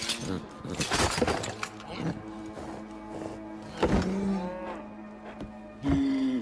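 A cow moos several times in an animated film, the low drawn-out calls standing out between loud clattering and crashing noises.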